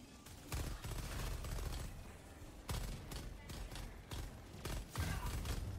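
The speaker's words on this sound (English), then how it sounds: "Popping in the mortar." Mortar rounds fired in the shooter Helldivers 2, a rumbling battlefield mix of deep repeated thumps and blasts at irregular intervals, moderately distant under constant low combat noise.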